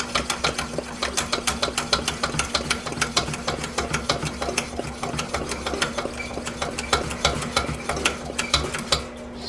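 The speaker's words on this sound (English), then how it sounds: "We'll go ahead and pump this up. We'll give it about 30 pumps." Hand pump working the fuel tank of a vintage 1970 Coleman 425E camp stove, a rapid, even series of sharp mechanical clicks and squeaks, close and loud, repeating dozens of times without pause over a steady low hum.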